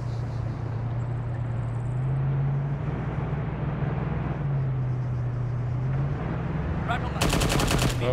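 Heavy .50 caliber machine gun fire in the Arma game Antistasi, a loud sustained mechanical roar with a burst of sharp crackling near the end, no talk.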